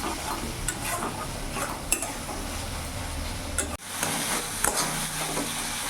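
Spice masala for a tilapia curry frying in a pan, a continuous low sizzle with stirring and occasional ticking spoon taps, close and without voices.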